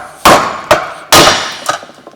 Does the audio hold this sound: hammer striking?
yes